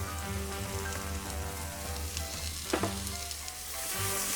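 Vegetables sizzling in a soup pot with salt added, a steady crackling fry with a brief stirring scrape partway through, close and continuous with no talk.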